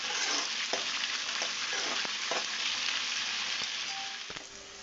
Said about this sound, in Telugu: ఉల్లిపాయలు వేగుతాయి. నేను ఫ్రై చేసుకోవాలి బాగా.